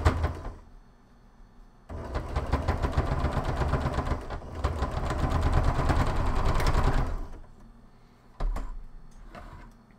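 A sewing machine stitching fabric for a handmade plushie runs in two long steady bursts of fast, even mechanical whirring, loud and close, with a short stop between them and a brief restart at the end.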